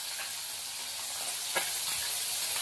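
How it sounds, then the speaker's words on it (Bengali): Tengra fish frying in mustard oil, a soft steady sizzle close by with a faint stir or spatter now and then, no voices. "একইভাবে আর যে কটা মাছ আছে ভেজে নেব।"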